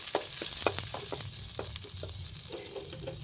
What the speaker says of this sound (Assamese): অলপ মই লৰাই দিম।